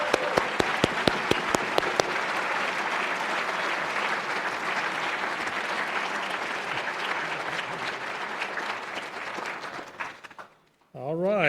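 Sustained audience applause for inductees at an induction ceremony, opening with a few sharp claps and swelling into a dense, steady wash of clapping that carries on for several seconds before abruptly cutting off near the end.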